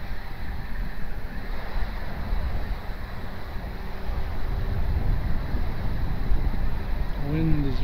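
Strong wind buffets an outdoor microphone at an RC plane flying session, a constant loud roar and rumble that lasts throughout, with a faint whine near the end.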